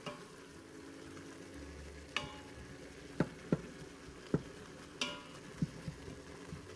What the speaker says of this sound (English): Just gonna keep sauteing right now